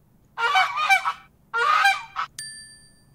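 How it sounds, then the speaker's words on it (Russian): A goose honks twice in loud, harsh bursts, then a short bright ding rings out at the end. "Покажи гуся. Он гогочет. Га-га-га."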